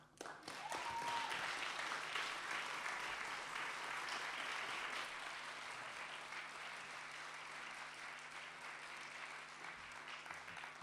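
Concert audience applause at Le Tarmac: a big swell of many people clapping that rises quickly and holds as a steady, fairly distant roar for about ten seconds, with a brief whistle early on.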